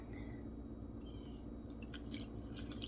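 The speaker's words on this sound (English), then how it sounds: "I'm gonna add a little bit more water." Water being added to a sourdough mix in a home kitchen, soft drips and wet trickles with small squishy sounds over a quiet background hum, faint and close.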